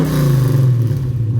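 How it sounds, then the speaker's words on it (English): A 1969 Camaro engine revs under light throttle on a freezing cold day, a loud, close, steady low rumble with a deep tone that holds for a moment and eases slightly, no voices over it. "I'm going to have him give it a little bit of gas."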